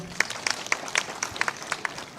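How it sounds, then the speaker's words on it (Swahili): An audience at a public event with a county governor claps steadily. The applause is fairly faint and sustained, with scattered individual claps standing out. "Pigeni Governor makofi tena."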